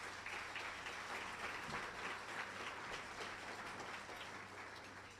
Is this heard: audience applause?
yes